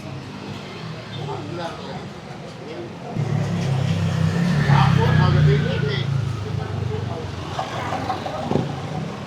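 Slow road traffic heard while riding a bike: a low, continuous rumble of car engines that swells as vehicles pass close by partway through, then eases off, with muffled voices now and then.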